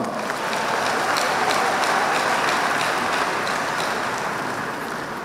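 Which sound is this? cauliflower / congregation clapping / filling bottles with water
congregation clapping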